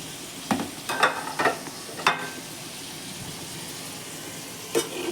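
Watermelon rind being stirred in a pan with tempering spices, a few scraping stirs and bursts of frying over a low background sizzle, with a final scrape near the end.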